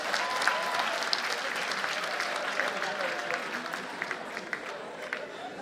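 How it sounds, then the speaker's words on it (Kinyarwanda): A live comedy show audience applauds the event's organizers. The clapping is steady, moderately loud and mixed with crowd noise, with a voice speaking over it. "Amashyi menshi cyane ku bateguye iki gitaramo."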